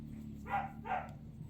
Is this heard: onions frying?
no